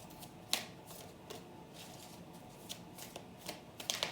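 Close, quiet riffling of tarot cards being shuffled, with soft irregular flicks and taps repeating over a few seconds, no voices.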